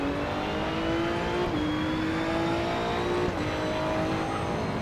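A Maserati GT2 race car in the Assetto Corsa EVO video game, driven on the Grand Prix layout, its engine droning steadily and climbing in pitch through several upshifts, loud and close with no talk.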